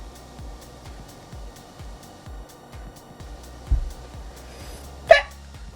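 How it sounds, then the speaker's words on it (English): Small squeaky hiccups, high-pitched and yelping like a tiny puppy, sound twice at close range in a quiet room: a soft one midway and a sharper one near the end. "My hiccups always sound like baby chihuahuas."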